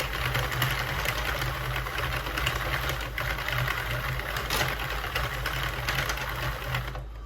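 A Sentro knitting machine cranked by hand, making a steady, close mechanical whirring and clicking with a low rhythmic hum that runs continuously and alone, stopping right at the end.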